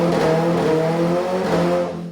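A 2026 Kawasaki ZX-10R with velocity stacks, an aftermarket air filter and a new exhaust holds a loud, steady high-rpm engine drone. The tone stays sustained, with slight pitch shifts as gears change, then fades at the end.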